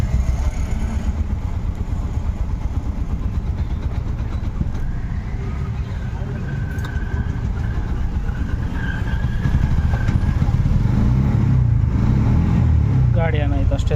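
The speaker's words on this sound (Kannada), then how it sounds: "ಇವಾಗ ಗಾಡಿ ಆನ್ ಮಾಡ್ತೀನಿ." An auto rickshaw engine cranks and then runs, first as a rough, rattling mechanical chug that grows louder and fuller toward the end as the engine catches and keeps going nearby.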